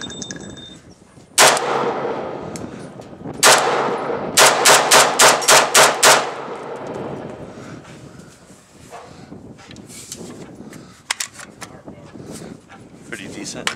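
A newly built AK74 rifle fires for the first time outdoors: two single loud cracks, then a rapid string of about six shots before it stops, each followed by rolling echo, with faint background noise and a few small clicks afterward.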